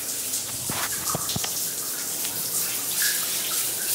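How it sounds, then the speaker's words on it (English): Water running in a shower, a continuous hissing spray that stays steady throughout with a few brief clatters and drips near the start. "but I'm in the shower"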